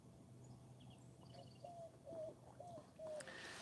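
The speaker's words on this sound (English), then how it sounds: "Maybe the bird wants to talk, but I don't think it wants to talk to me." A bird at a camping spot gives four soft, evenly spaced cooing calls like a dove, faint and somewhat distant over a low outdoor background hum.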